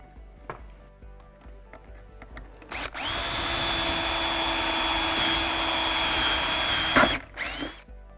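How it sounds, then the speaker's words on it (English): A power drill whines steadily for about four seconds, loud and close, drilling out a rivet on a SCARPA ski boot, framed by a few short taps and clicks before and after. "you'll want to drill out this rivet and this rivet"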